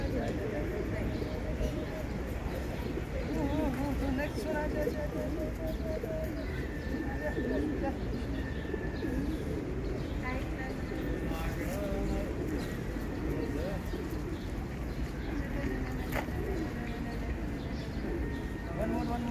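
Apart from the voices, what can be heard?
birds cooing in Stavanger, Norway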